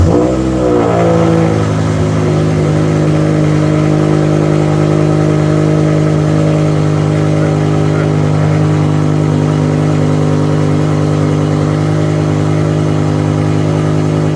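BMW M6 E63 with its V10 cranking and catching, then revving once and settling into a steady, loud, close idle that carries on without pause.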